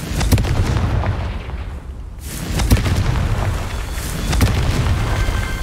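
Booming spell explosions from the Confringo fire spell in Hogwarts Legacy, several loud blasts with rumbling low end and sharp bursts spaced a second or two apart, no talking.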